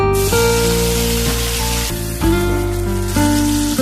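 Chopped tomatoes hiss and sizzle as they drop into hot oil tempered with black cumin and dried red chilli for a pointed gourd curry; a close, bright frying crackle plays under steady background music, with no talking.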